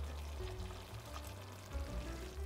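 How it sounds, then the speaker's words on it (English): Pasta water is poured into a thickening sauce of roasted vegetables and thyme in a pan, a soft continuous trickle mixed with gentle sizzling, close and fairly quiet, with no talking. "I'm going to add just a little bit of the pasta water to that"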